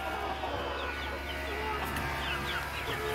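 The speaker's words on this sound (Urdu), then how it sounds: "فل فائٹنگ والا مرغا ہے" A fighting rooster clucks repeatedly in a farm animal enclosure, its calls steady and moderately close over a constant hum of background noise.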